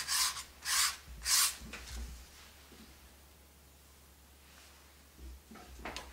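A brush dry-brushing paint onto a wooden lazy Susan makes a few short, close scratchy strokes at the start, then falls quiet before a last faint stroke near the end; no voices.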